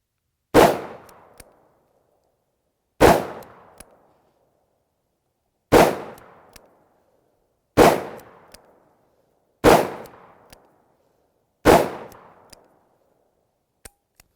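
Six loud, sharp shots from a Smith & Wesson 629 .44 Magnum revolver with a 5-inch barrel, fired outdoors at a steel target, spaced about two to three seconds apart, each with a brief decaying tail.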